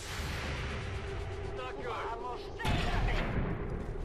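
Gunshots in the XCOM 2 video game, a few sharp blasts and a heavier boom over a constant droning background, with a person talking over the action.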